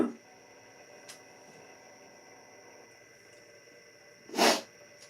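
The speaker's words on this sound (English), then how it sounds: "I'm literally going to sneeze." A single sharp sneeze near the end, loud and close, after a quiet stretch with faint breaths and light room noise.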